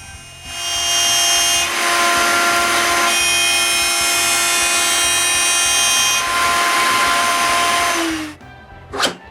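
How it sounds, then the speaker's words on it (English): An electric drill bores a bolt hole through wood, a loud continuous whining motor with bursts of higher load, stopping briefly between passes and spinning down near the end before a short final knock. "On the other side, I drill a hole for the bolt."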